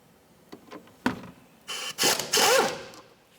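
A 14mm strut mounting bolt is worked loose on a Scion xB front suspension, with a few light clicks and knocks followed by bursts of rapid ratcheting or power-tool whirring, close and alone.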